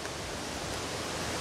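A waterfall beside Devkund waterfall on a Tamhini Ghat trek gives a steady, soft, broadband rush of falling water with no voices.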